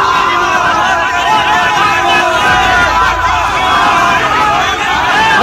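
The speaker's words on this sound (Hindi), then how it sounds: "उमेश पाल की हत्या से आक्रोशित वकील अतीक अहमद को आता देखकर उसके खिलाफ नारेबाजी करने लगे" A crowd of angry lawyers shouts slogans against Atiq Ahmed, a loud, dense roar of many voices blending into a steady, churning babble that never lets up.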